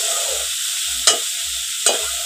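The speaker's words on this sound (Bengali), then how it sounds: "ভালো করে নেড়ে চেড়ে" Vegetables for vegetable chop fry in a pan under a constant bright sizzle. Two sharp stirring scrapes cut in, about a second apart, and soft low thumps sound underneath.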